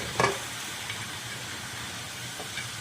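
Rice in a pan is stirred once with a brief scrape, then a soft, steady frying hiss carries on quietly underneath, with a faint clink near the end.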